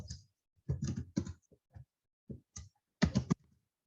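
Bursts of clicking keystrokes on a computer keyboard while entering accounting data, several short clusters of typing separated by pauses, close and fairly clear.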